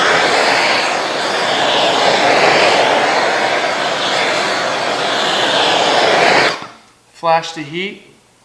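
Heat gun blowing hot air along a vinyl wrap edge on a 2017 Camaro ZL1, a loud steady whooshing roar that cuts off abruptly, followed by someone talking.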